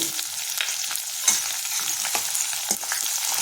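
Onions frying in a pan with crisp roasted peanuts, a close steady sizzle punctuated by repeated scraping stirs and light clicks of a spatula, no talking.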